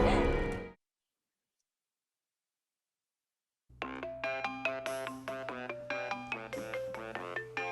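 A mobile phone ringtone plays in a drama scene, a brief burst, then silence, then a repeating melodic tone pattern rising in clear rhythmic pulses.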